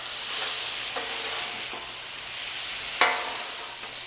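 A spatula scrapes and taps on a Blackstone griddle, mixing chopped spinach with chicken over a steady sizzling hiss, with a few light metal strikes, one louder, near and without talk.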